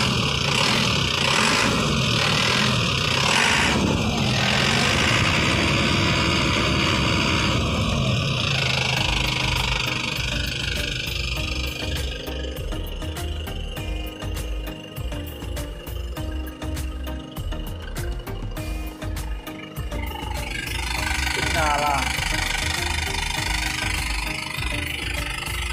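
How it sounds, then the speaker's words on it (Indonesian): Turbocharged engine of an Isuzu Elf truck, 2013 long-body model, running steadily and loud up close, with a continuous broadband hiss and rumble that shifts in tone partway through. "Suaranya turbo."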